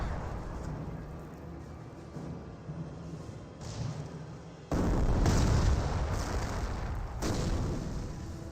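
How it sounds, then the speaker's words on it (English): An incendiary mortar barrage in Company of Heroes rumbles as a steady wash of distant booms, then surges into a louder, heavier roar of explosions that keeps pounding before easing slightly. "Incendiary mortar was rained on in."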